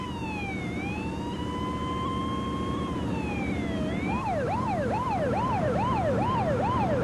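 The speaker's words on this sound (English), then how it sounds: "As the ambulance headed for the hospital" An ambulance siren wails in long, slow sweeps, then switches to a rapid yelping warble, loud and steady over a low rumble of traffic as the ambulance heads for the hospital.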